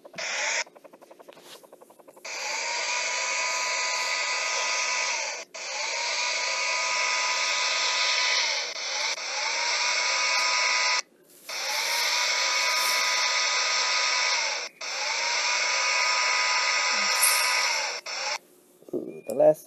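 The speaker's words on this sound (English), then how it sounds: "Blow dry the car." A hair dryer blowing on a car in a children's car wash app game, a steady whirring drone running in several long stretches separated by short pauses, fairly loud and close.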